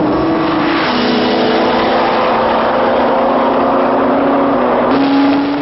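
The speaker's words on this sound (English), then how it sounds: "Time for a top speed run, and they come down towards the camera at about 280" Kawasaki ZX-12R and Suzuki Hayabusa sport motorcycles on a top speed run, a loud continuous high-revving engine drone holding a steady pitch with a brief gear change near the start and another shift near the end.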